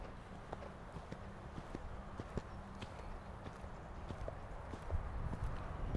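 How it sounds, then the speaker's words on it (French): A horse canters in a riding arena, its hooves landing in a steady, rhythmic beat on soft footing at moderate distance, under a low background hum. "laissez galoper le cheval"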